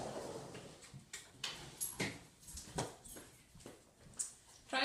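A pet dog whimpers softly in short, faint whines at irregular intervals, close by in a quiet room.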